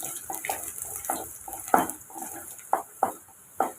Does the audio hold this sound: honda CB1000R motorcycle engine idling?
no